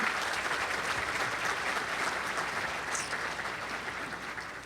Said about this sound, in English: Now we can have a round of applause to express our appreciation.